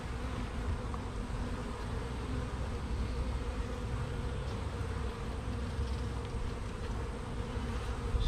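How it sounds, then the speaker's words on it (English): A dense, continuous hum of honeybees swarms around a caged queen set at an active hive, a steady close drone with no voices over it. "see if these bees will come to her and"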